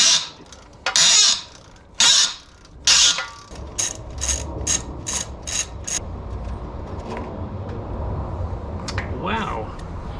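A ratchet works a rusted rear bumper bolt on a Datsun 280Z, soaked with penetrating oil: loud bursts of ratcheting, then a run of quick, evenly spaced clicks up close, with a brief voice near the end.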